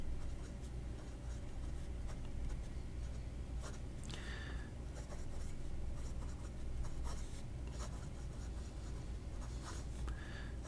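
A number 8 steel medium nib on a 630 fountain pen scratches steadily across paper, a continuous close scratching texture with brief strokes and lifts, no voices.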